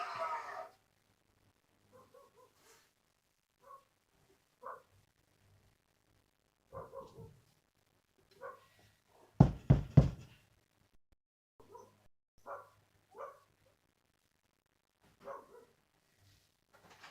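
A dog barks outside at the front of a house, a short burst of two or three loud, close barks around the middle, with faint scattered knocks and quiet household sounds otherwise.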